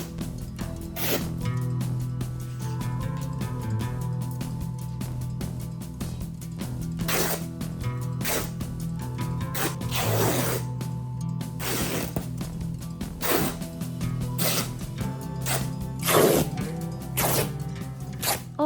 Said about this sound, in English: this fabric tears really nicely, so I could just snip and rip every single piece